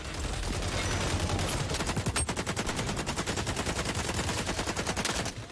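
Rapid automatic fire from an AK rifle fitted with a red dot sight in the shooter game XDefiant, a long, loud, evenly spaced burst of shots lasting several seconds.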